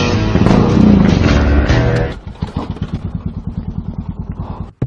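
A motorbike engine roars loudly for about two seconds and then drops to a rapid, rhythmic idle putter, with a sharp clatter at the very end.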